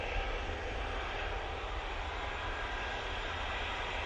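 EasyJet airliner departing Manchester Airport for Athens, a steady low engine roar, fairly faint and even for a few seconds with no talk.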